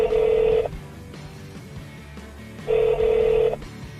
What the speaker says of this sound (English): If that's correct, push the off hook switch to dial, or say dial.